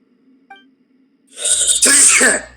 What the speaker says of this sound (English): Nice, that was a sneeze